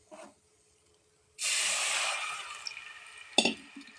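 A paste of ground ginger, cinnamon and fennel lands in a hot kadai with a sudden loud, broad sizzle that hisses steadily for a couple of seconds and fades slightly, with a short sharp crackle near the end.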